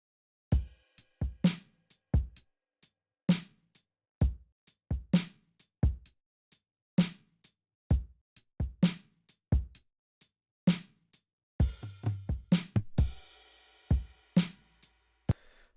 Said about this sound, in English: we've got a drum loop together, and it sounds like this